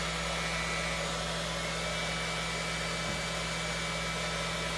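An aquarium siphon suction pump runs during a water change with a steady, loud, broadband whooshing drone and a low hum, unbroken throughout and close by.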